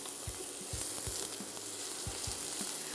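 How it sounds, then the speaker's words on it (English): Minced onions fry gently in a pan over lowered heat, a steady mid-level sizzle punctuated by soft, repeated taps of a utensil stirring them. "And then we're going to add some minced onions. And we just want that to cook down a little bit."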